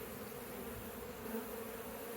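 Honey bees massed at their built nest give off a steady, low, continuous buzzing drone, faint and unbroken throughout.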